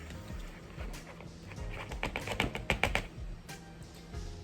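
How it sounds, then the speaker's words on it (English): A knife chopping soft bacon into small pieces on a board, a run of quick close taps clustered in the middle over a steady low background hum. "Bacon's always kind of hard to cut when it's soft. Okay, so I just cut it up in small random pieces"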